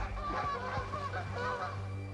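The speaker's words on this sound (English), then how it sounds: "Bringing in the geese." Geese honk repeatedly out in the open during a hunt, a chorus of overlapping nasal calls that keeps going at a moderate distance without any speech.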